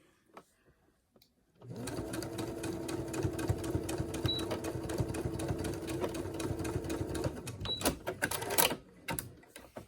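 A sewing machine stitches the top seam of a fabric face mask, running steadily for several seconds with a rapid mechanical chatter after a quiet start, then stopping into a few short clicks and handling noises.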